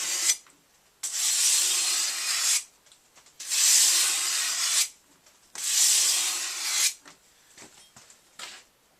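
Sandpaper of 220 grit rasping back and forth across a surface while a blade edge is sharpened, in three long, loud, steady strokes separated by short pauses and light handling noises, with no talking.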